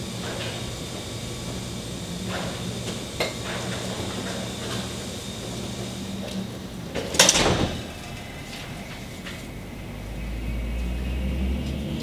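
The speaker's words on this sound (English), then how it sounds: "let me close the door here" A door closes in a room during a lecture, a single sharp knock standing out briefly over low steady room noise.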